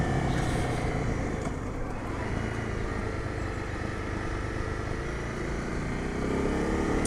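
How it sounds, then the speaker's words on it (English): A Honda 250 Rally motorcycle engine on the overrun under engine braking, riding through the Surrey Hills, gives a continuous rough drone mixed with wind rush that stays steady throughout. "you get the pop and crackle when you're under engine braking on the overrun"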